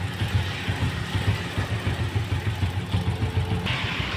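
A Honda Supra motorcycle engine idles steadily after a light service, its low, even putter running continuously and close by with no other sounds over it.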